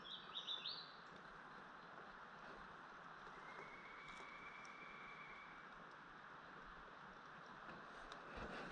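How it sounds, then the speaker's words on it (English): In quiet woodland, a wild bird gives a brief, fairly distant call near the start, followed by soft wind and faint ambient rustle for the rest, with no talking. "No, Molly, I don't know what that bird was."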